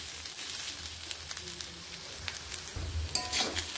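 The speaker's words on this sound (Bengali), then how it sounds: "আরও একটুক্ষণ নেড়ে এইভাবে এগুলোকে ভেজে নিচ্ছি" Mixed vegetables with carrot and onion frying in a pan, a continuous close sizzle with light stirring scrapes and a louder clatter near the end, no voices.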